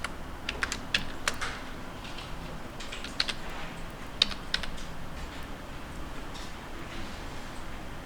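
Quick, irregular clicks of a computer keyboard as a short word is typed, the keystrokes coming in small clusters over a soft, steady background hiss.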